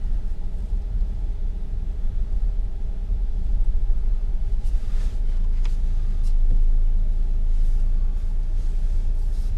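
A car creeps slowly into a parking spot beside a truck and an Explorer, heard from inside as a low, steady engine rumble and road noise that swells slightly midway, with no talking.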